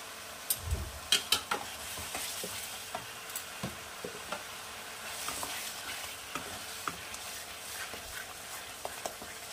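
Cauliflower and potato frying in a pan for Dhaba-style aloo gobi, a soft continuous sizzle broken by repeated stirring knocks and scrapes of a spatula, close and fairly quiet.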